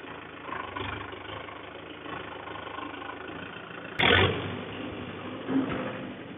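A Mahindra 575 4WD tractor's diesel engine runs steadily nearby, with a sudden loud burst partway through and a smaller bump in engine noise shortly after.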